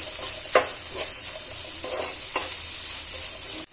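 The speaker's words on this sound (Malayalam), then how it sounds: "ഇനി എല്ലാം ഒന്ന് മിക്സ് ചെയ്തെടുക്കാം." Samosa filling with pepper and garam masala being stirred in a hot pan: a continuous bright sizzle under several scraping strokes of a spoon at irregular intervals, close and fairly loud, no talking.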